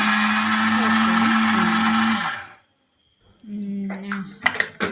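A mixer grinder whirs loudly and steadily, grinding gongura chutney with salt and garlic, then shuts off into silence, followed by a jar and lid clattering nearby.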